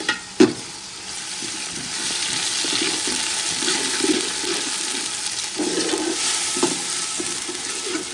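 Ginger paste, onion, green chilli and garlic paste sizzle in hot oil, stirred by a spoon in a steady bubbling fry, with a couple of sharp knocks at the start and a brief clink partway through.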